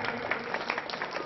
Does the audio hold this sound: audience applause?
yes